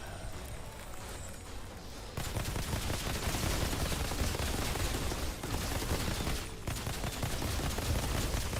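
Turret gunfire in the Outriders shooter game, a dense rapid burst of automatic shots that starts abruptly after a quieter opening and keeps hammering loudly, with brief dips, to the end.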